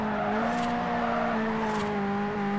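Ferrari engines droning steadily in Forza Horizon, a continuous tonal hum with a stable pitch that stays fairly constant throughout, with faint bursts of higher noise now and then.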